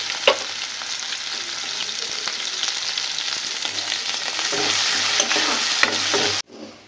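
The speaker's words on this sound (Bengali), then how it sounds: "পেঁয়াজ ভাজবো" Onions fry in oil with a bay leaf, dried chilli and cumin, a steady sizzle that swells louder toward the end under occasional stirring clinks, then cuts off abruptly.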